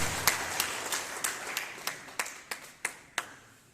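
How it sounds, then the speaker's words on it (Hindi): Applause at a Khadi and Village Industries Board event in R.S. Pura, Jammu, heard as about ten distinct, evenly spaced claps in a slow rhythm, moderately loud against a quiet hall background. "आप जोरदार ताली करकर बजाते हैं"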